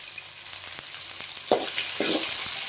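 Onions and green chillies sautéing in a pan, an even hiss of frying with a few sharp scrapes and taps from stirring, close and moderately loud, with no voices.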